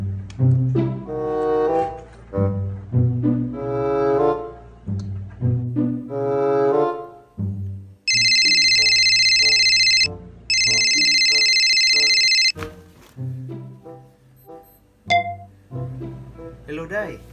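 A cellphone ringtone rings loud and near in two long electronic bursts separated by a short gap, set between stretches of someone talking.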